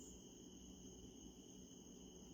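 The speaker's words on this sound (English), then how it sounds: "if you can hear the crickets" Crickets chirping at night on a property in a remote rural area, a faint steady high-pitched trill running continuously without pause against a quiet low background hum.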